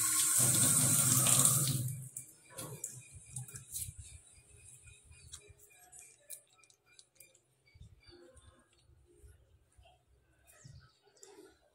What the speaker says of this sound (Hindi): कभी भी स्टील को साफ कर रहे हैं ना, तो इस तरह से पहले पानी से धो लेना है।